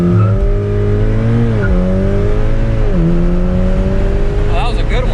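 A Volkswagen Golf R with a Unitronic Stage 2 tune launches hard using launch control, the engine roaring close and loud as revs climb through quick upshifts, with a brief higher squeal near the end.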